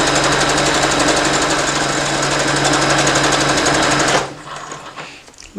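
A sewing machine basting a romper pocket with a stretch stitch, running loud and close in a fast, even rattle for about four seconds before stopping abruptly, leaving faint handling noise.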